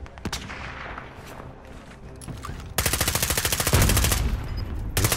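Gunfire in Call of Duty: Modern Warfare: scattered shots and distant bursts give way to loud, rapid automatic fire that rattles on steadily to the end.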